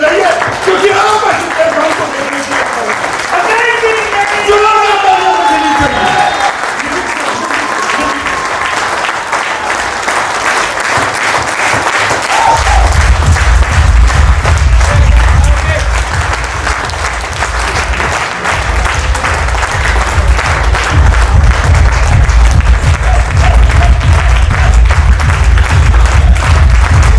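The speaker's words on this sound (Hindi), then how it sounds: "आप अपनी खुशी की जिंदगी के लिए ताली बजाइए" Audience applause at a company get-together of a network-marketing wellness firm, a voice speaking over the crowd at first, then loud, sustained clapping that swells and fills the room for over ten seconds.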